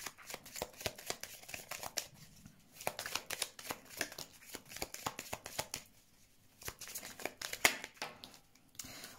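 Tarot cards being shuffled for a card reading, a steady rapid riffling and flicking that runs nearly throughout in close, crisp bursts with brief pauses between them, and no voice over it.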